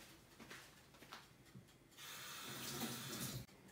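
A vegetable, likely an onion half, rinsed under a running kitchen tap while preparing a roasted vegetable salad: a steady, moderate stream of water splashing in a sink, rising after a couple of quiet seconds and then cutting off.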